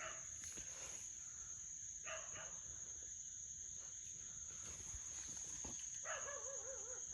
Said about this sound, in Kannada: ನಾಯಿ ಬೇರೆ ಬಂದಿದೆ ಗುರು